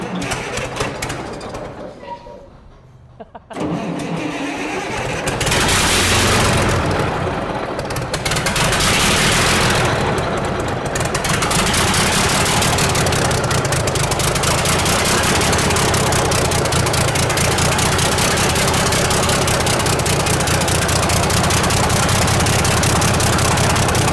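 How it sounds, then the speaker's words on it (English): Vintage Cummins 220 diesel in a Peterbilt 350 truck cranks briefly, goes quiet for a moment, then catches and settles into a loud, steady, rumbling run that continues to the end. "see if it'll crank up"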